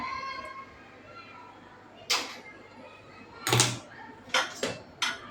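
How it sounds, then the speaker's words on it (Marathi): A metal rack is set down inside a pressure cooker with a few sharp metallic clanks and clinks, spaced out and then clustered near the end, over a quiet kitchen background. "अशी जाळी ठेवावी"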